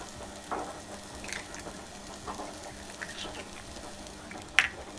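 Six eggs frying in a pan give a soft, steady sizzle with faint crackles and one sharper pop near the end; no voice over it.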